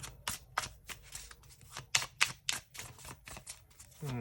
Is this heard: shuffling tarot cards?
yes